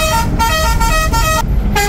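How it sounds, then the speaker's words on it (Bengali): A bus's modified Bangla-model horn blares loud and close in a series of about four melodic, tonal blasts separated by brief gaps, with road rumble underneath. "এটা হচ্ছে সেই হর্ন, বাংলা মডেল হয়ে গেছে"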